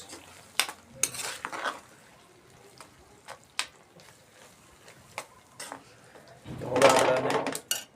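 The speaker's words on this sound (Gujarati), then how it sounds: "હવે આ કરી નાખીએ મિક્સ" A spoon stirs green turmeric curry in a pan with scattered scrapes and taps, ending in a louder burst of sizzling and stirring.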